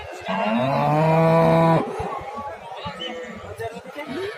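A big cow at a livestock market lets out one long, loud moo up close, followed by the busy chatter of people talking nearby.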